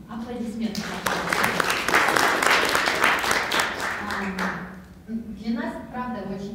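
Applause from the audience at a blockchain hackathon, a burst of clapping rising between spoken announcements and tapering off as a voice returns.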